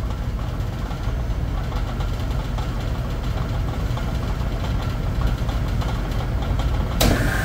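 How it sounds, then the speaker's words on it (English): A supermarket refrigeration compressor runs as a steady, low mechanical hum with a faint knocking texture throughout, ending in a brief sharp click, with no one speaking. "And there we go, we got our compressor on."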